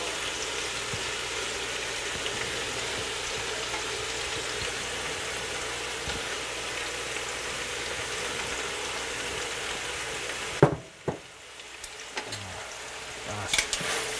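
Vegetables fry in olive oil in a pan, a steady low sizzle throughout, then a few clatters and a sudden drop in the sound near the end.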